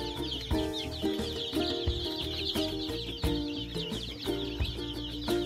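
Chicken chicks on a farm peep busily in a dense, continuous chorus of high chirps, with occasional clucks and bumps from the birds close by and no talking.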